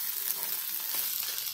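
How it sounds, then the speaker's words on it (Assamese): Onion, green chillies and ginger-garlic paste sizzle in a hot wok, a steady bright hiss with faint stirring, close and continuous without talk. "কেৰাহী গৰম হৈ গ'ল, তাত দি দিলোঁ পিঁয়াজ, কাটি লোৱা জলকীয়া দুটা, আদা নহৰু পেষ্ট।"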